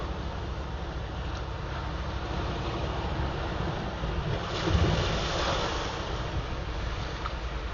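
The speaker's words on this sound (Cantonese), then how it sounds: "啲浪亦都係拍打上岸。" Sea waves break steadily on a shore, a continuous loud wash with a brief surge midway, mixed with heavy wind buffeting the microphone.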